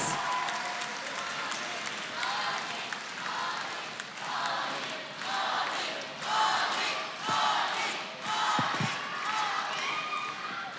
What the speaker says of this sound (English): Everybody, let's give him a big round of applause.